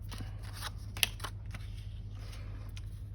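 Paper being cut with scissors while making a pop-up card mechanism, a few soft snips and rustles with one sharper click, quiet and close over a low steady background hum.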